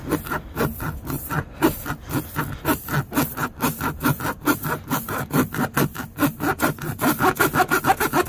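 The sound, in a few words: reaming a tire puncture with a repair kit rasp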